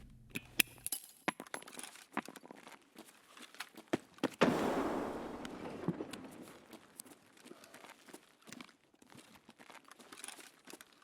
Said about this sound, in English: I can still hear him shuffle around on the broken glass, so I know he's still in the same place.